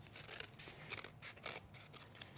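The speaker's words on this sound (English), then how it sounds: "I usually just angle my scissors around that so I can catch it right under the frame and not cut into that frame at all" Scissors trim paper around a card frame in a series of short, crisp snips, about seven or eight quick cuts heard up close in an otherwise quiet room.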